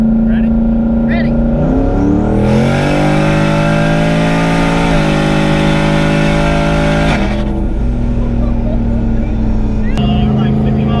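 A 2018 turbocharged Mustang GT with 1,000 hp accelerates hard from a roll at about 50 mph. The engine roar is loud and close, climbing steeply in pitch through two gear changes before it settles.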